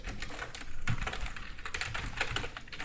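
Continuous keyboard typing as JavaScript code is entered on a computer, with rapid, uneven key clicks close by and no voices.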